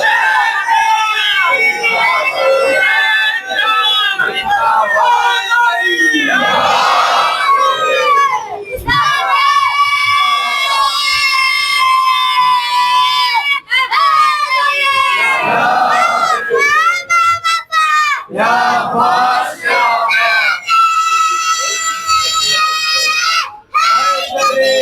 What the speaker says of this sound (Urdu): باد یا نعرے حیدری لگاتے ہو نا